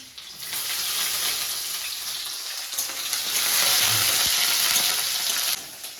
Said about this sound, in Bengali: আগে রসুনটা ফোড়ন দেবো স্যান্ডটা ভালো আসবে রসুন আর কাঁচা লঙ্কা পাত্র দেবো